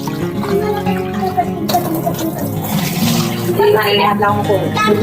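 Lentils are swished and rinsed in water in a home kitchen, producing steady splashing and sloshing with running water, heard under a voice talking throughout.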